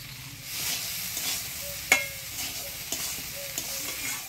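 Boiled chana dal with spices, green chilli and salt stirred in a frying pan: a quiet, soft sizzle with gentle scraping strokes and one sharp clank of the spoon against the pan.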